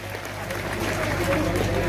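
An audience claps at an outdoor Gujarati folk music gathering, a steady wash of applause that builds slightly toward the end, with a voice talking over it.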